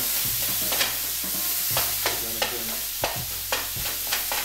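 Beef and onion frying in a pan over medium-high heat, a constant sizzle punctuated by regular scraping and tapping as the meat is pushed around.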